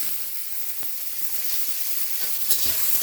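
Pointed gourd peels frying in mustard oil in a wok give a steady, close sizzle and hiss, with a couple of brief stirring clicks and no voices.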